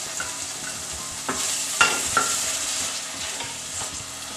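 Yogurt goes into spices frying in a pan for an Indian gatta curry, bringing a steady close sizzle with a few sharper spoon-stirring scrapes and clacks, no voices.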